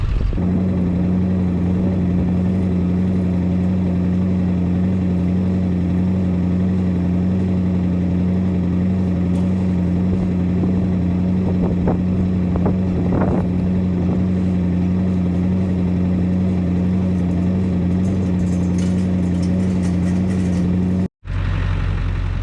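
A farm truck's engine runs at a steady idle, a constant low droning hum with faint rattles, holding evenly for about twenty seconds before cutting off abruptly near the end.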